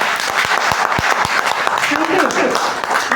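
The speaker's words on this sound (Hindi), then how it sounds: "एक बार जोरदार तालियां।" Enthusiastic audience applause at a wellness company business meeting, a dense wash of clapping with a few distinct close claps and a voice faintly audible underneath.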